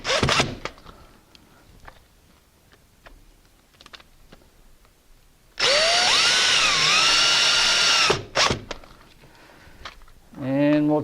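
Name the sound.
power drill driving screws into door strike plate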